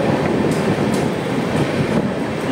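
A train pulls into Jalgaon Junction railway station in Maharashtra, a steady loud rumble of wheels and carriages rolling continuously with faint rhythmic clatter over the rails.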